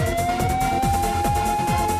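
A police car siren wails loud and close, its rising and falling tone repeating over a constant engine-like hum, with no voices.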